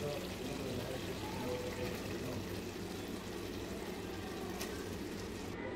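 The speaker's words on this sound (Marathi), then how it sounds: "आता हे आपण तांदूळ त्याच्यात घालणार आहोत।" Uncooked rice poured into a pot of homemade village-style chicken biryani gravy, a steady grainy rush that stays fairly even for several seconds.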